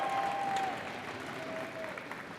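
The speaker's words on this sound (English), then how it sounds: "Let's give it up and make some noise. Another round of applause for Takahiro." Applause fills a Starbucks barista championship semi-final venue, a sustained wash of clapping from a crowd heard at some distance, with a faint tonal sound drifting through and no talk.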